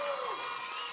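Spectators at a youth swim meet cheer as a swimmer finishes the 400 meters, a steady, fairly faint wash of crowd noise and whoops lasting about a second.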